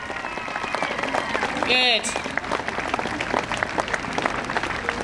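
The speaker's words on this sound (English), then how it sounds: "let's give Rock one big cheer for showing Marshall how to do things" A showground crowd at a Welsh pony and cob festival applauds and cheers for a police horse named Rock. The clapping is steady and dense, with a brief voice and a whistle-like tone cutting through partway.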